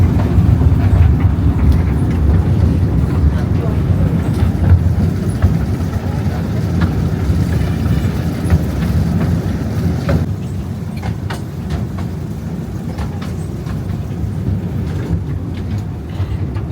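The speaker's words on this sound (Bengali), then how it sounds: "ট্রেন চলছে, আমরাও চলছি সাথে" Ooty's mini train runs through forest with the engine just behind, giving a steady, loud rumble of wheels and carriage noise that carries on throughout, with faint voices now and then.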